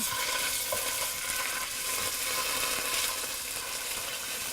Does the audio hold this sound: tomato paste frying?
yes